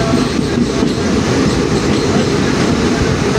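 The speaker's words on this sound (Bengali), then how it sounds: "তো এই মানে বাইরের দৃশ্য দেখার জন্য তো আমি এবার কাটিপুরাতে যাচ্ছি ট্রেন দিয়ে" A passenger train rolls along the rails near the Farakka bridge, a loud, steady rumble and rattle of the carriages heard from on board with no pauses.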